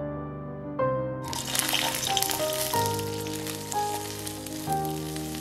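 Greens dropped into two tablespoons of hot oil in a kadai over medium flame: a sudden bright, steady frying hiss starts partway in, played under loud sustained background music.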